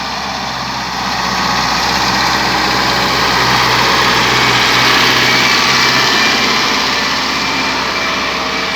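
A diesel engine runs steadily near a rice field, a loud, even drone that holds with no gaps from start to finish.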